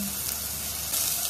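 Onions fry in oil as the base for a Japanese curry sauce, giving a loud, dense, continuous sizzle throughout with no talk.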